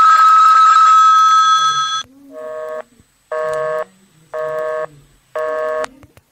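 Telephone line sounds in a radio drama: a steady ringing tone, then a repeating busy signal of even on-off beeps, loud and clear.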